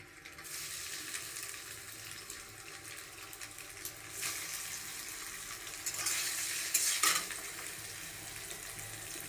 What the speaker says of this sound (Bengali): আবার কিছুটা আছে, সেটা আবার ভেজে নিচ্ছি।